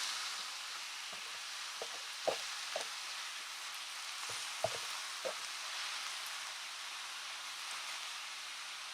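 Ground beef, 85% lean, frying in a greased pan, giving a steady, soft sizzle of hot fat with a few faint pops and scrapes scattered through it, no voices.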